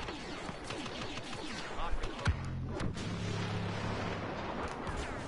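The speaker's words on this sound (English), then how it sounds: "I've got a pulse cannon." Pulse cannon firing in the Star Wars Battlefront video game: heavy booming blasts and a low droning tone over a dense, continuous battle din of gunfire and explosions.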